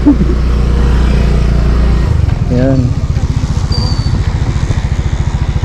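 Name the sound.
Yamaha Mio Gear motorcycle engine running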